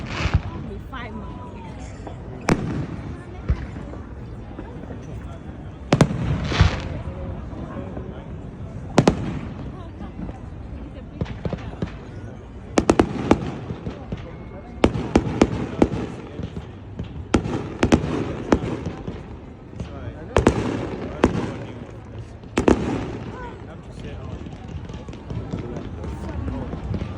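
New Year's Eve fireworks burst over Pier 39 in a string of sharp, booming explosions at irregular intervals, some close together, with crowd voices and chatter underneath.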